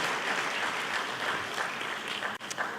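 Sustained applause from a conference audience at an international dialogue event in Yerevan, steady and dense throughout with a brief dip near the end.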